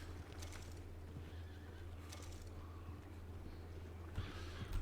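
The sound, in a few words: horse neighing and hooves in video game Red Dead 2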